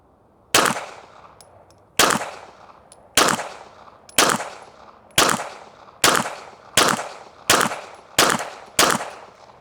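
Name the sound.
Glock pistol firing ten rounds at 20 yards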